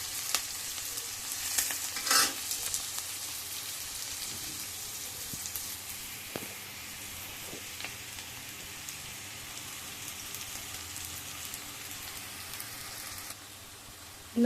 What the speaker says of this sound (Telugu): ఇలా ఆనియన్స్ కుక్ అవుతూ బ్రౌన్ కలర్ వచ్చే వరకు కొంచెం కుక్ చేసుకోవాలండి.